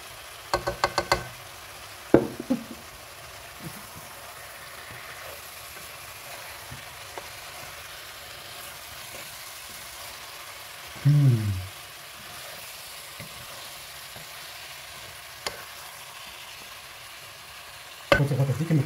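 Tomato sauce frying in a pan for a fish soup, a soft steady sizzle with occasional knocks and clatters of a utensil against the pan, close and without talk.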